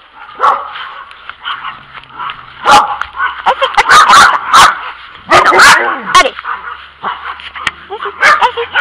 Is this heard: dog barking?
yes